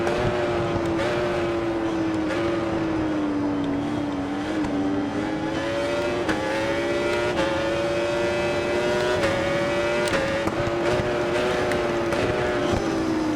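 Yamaha superbike engine in the motorcycle racing video game RIDE 4, a loud sustained high-revving whine that holds steady with small pitch shifts as the bike is ridden, heard alone without talk.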